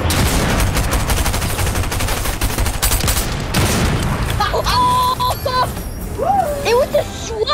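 Rapid, dense gunfire rattles through a Fortnite match in a loud, continuous barrage for several seconds. It then thins out beneath tonal game sounds and scattered shots.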